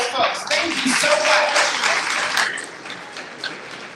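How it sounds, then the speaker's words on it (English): A room full of attendees at an advocacy lobby-day event breaks into applause mixed with cheering voices, a lively burst that swells early and then tapers into scattered clapping and murmur. "Let's cheer for those folks"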